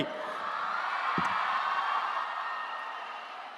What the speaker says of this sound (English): A big round of applause for her, everybody.